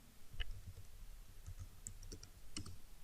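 Typing on a computer keyboard while entering data into an Excel spreadsheet: a few quiet, scattered key clicks over a low background hum.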